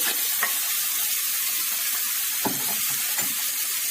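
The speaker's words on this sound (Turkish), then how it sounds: "Etleri ilave ettiğinizde cızırtıyı duymanız gerekti." Steady, dense sizzling of meat frying in hot oil in a pot for a meat güveç stew, with occasional scrapes and clinks of a utensil stirring through it.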